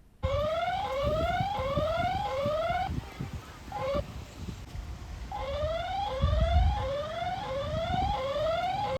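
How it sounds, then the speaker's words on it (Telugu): An electronic intrusion alarm siren on a farm repeats a rising whooping tone in quick cycles, pausing briefly midway before sounding again, with faint knocks underneath. "ఫామ్ లోకి ఎవరైనా ఎంటర్ అయితే చాలు, వెంటనే మన మొబైల్ కి మెసేజ్ వస్తుంది. ఇమ్మీడియట్ గా సైరన్ మోగుతుంది."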